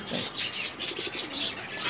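Pigeons in a loft of high-flying birds give soft, repeated cooing and chirps, a steady murmur of several birds close by with no talk.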